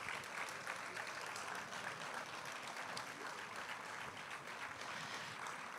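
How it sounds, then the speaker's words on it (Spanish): A congregation at a Sunday church service gives sustained applause, a steady, dense wash of many hands clapping at a moderate distance, with a faint murmur of voices mixed in. "Un aplauso para ellos"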